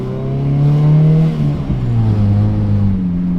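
A Honda Civic launches hard with anti-lag, its engine loud and close, holding a strained high rev before dropping in pitch on a shift and pulling again.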